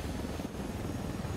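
A helicopter in a video game gives a dense, continuous rotor and engine roar, loud and steady for a brief moment with no voices.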